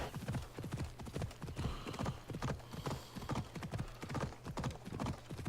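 Steady clip-clop of horse hooves trotting at an even rhythm in the video game Assassin's Creed Odyssey, close and fairly loud, with no voices.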